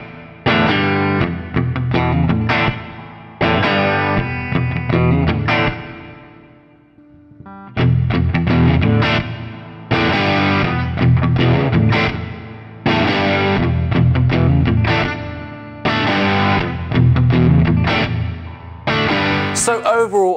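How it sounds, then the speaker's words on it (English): A ROSS Distortion 2023 pedal gives heavily distorted electric guitar playing chunky chords and riffs for the whole stretch, loud and close, with a brief pause partway through. "I think this is a great distortion pedal"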